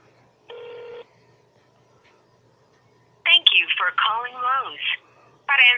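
Phone on speakerphone placing a call to a Lowe's store: a short steady tone burst, a pause, then a busy stretch of electronic chirping tones in quick varied bursts, close and clear against silence.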